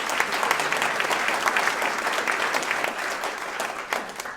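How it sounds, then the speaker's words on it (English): An audience at a local entrepreneur awards event applauds its business nominees, a thick, even patter of many hands clapping continuously at a steady level throughout, with no voices rising above it. "So a round of applause for everyone in this room and for all of our nominees."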